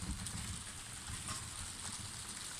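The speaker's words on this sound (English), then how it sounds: "it's raining heavily now" Heavy rain falls during a thunderstorm as a dense, constant hiss of drops spattering on surfaces, steady and close with no voices.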